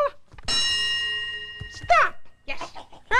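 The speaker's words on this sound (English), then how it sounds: "But when you hear the bell," A bell rings once with a long sustained tone signaling the stop in a children's dance game, followed by brief bright chimes as voices speak nearby.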